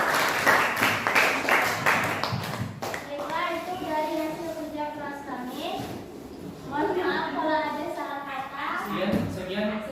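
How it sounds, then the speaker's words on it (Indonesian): A group gives applause for group 1, a burst of brisk hand clapping for about three seconds that quickly fades as a voice begins talking over the room. "Oke, untuk pada kelompok 1 mari kita berikan tepuk tangan."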